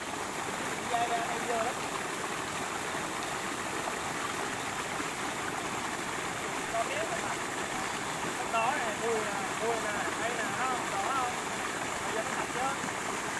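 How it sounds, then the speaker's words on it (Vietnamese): A mountain stream rushes steadily and loudly while a parent and child bathe in it, a dense unbroken wash of water with faint splashes and a few voice-like sounds mixed in. "cha con đang tắm bên dòng suối"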